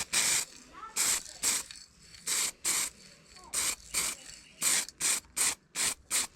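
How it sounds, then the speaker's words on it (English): Primer spray-painted onto masked-off parts of a 1999 Honda VTR 250 cafe racer, in repeated short hissing bursts, some quick and some longer, close and fairly loud, with brief gaps between them. "now I'm going to hit it with primer"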